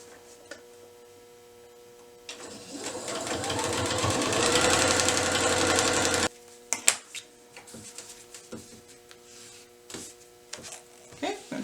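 A sewing machine stitches a paper-pieced quilt border block in one steady, loud run of a few seconds, then stops, followed by scattered handling clicks and rustles.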